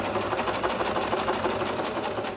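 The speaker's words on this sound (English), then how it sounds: "We're stitching on that line, yeah, not 1/4 inch either side, but directly on that line." A sewing machine stitches straight along a marked line on a quilt block, a fast, steady mechanical whir with rapid even needle pulses, loud and close, with no talking.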